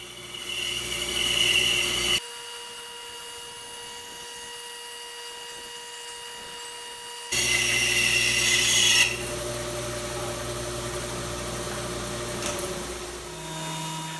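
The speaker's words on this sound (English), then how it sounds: "I'm pretty handy with the bandsaw, so that's what I'll use." Bandsaw running and cutting a blank of Eastern rock maple for a seven-string multiscale guitar neck, a steady motor whine with a harsher, louder cutting passage partway through, near and alone.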